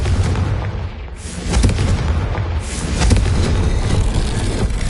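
A Confringo fire spell exploding in the Hogwarts Legacy video game, a loud, dense, rumbling burst that stays continuous for several seconds with no pause.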